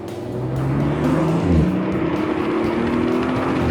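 An Audi RS coupe with a 2.9-liter V6, heard from the cabin in dynamic mode as it accelerates, gives a steady, loud engine drone that rises gradually in pitch over a few seconds, with no talking.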